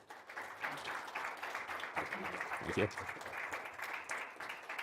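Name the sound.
audience applause for the speaker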